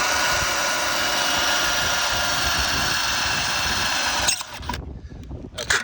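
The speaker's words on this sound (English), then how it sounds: "So what you want to do is pre-drill through that metal." Power drill boring a pilot hole through a metal bracket of a handrail post on concrete steps, a steady loud whine for about four seconds that cuts off abruptly, followed by quiet rustling.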